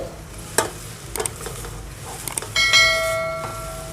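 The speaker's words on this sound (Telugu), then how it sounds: "మనం ఇప్పుడు అటుకులు వేసుకుందాము." Flattened paper poha tipped into a pan of hot tempering with fried peanuts, giving a brief rustling clatter and stir, then a bright sizzle that swells and fades, close and alone.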